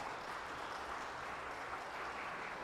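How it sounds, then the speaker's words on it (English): During a church worship service, the congregation applauds the parents with an even, continuous patter of many hands that neither builds nor fades across the short stretch. "Let's give them a round of applause."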